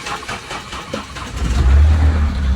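A car engine cranks and catches on a farm trip, a low rumble swelling up loudly midway and settling into a steady running drone near the microphone, with no talking.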